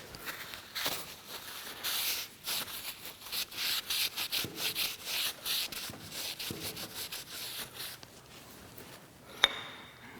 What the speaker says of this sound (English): Clean that blue out of there.